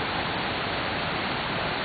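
Steady, dense roar of rushing water from a nearby waterfall on the Krka river in Krka National Park, Croatia, continuous and broadband with no breaks.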